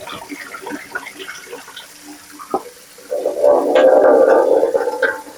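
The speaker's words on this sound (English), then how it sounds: "I'll pour that water off of that." Water pours off boiled spinach from a kitchen pot, a broad splashing rush that starts about halfway through and carries on loudly to the end, after a stretch of faint clatter.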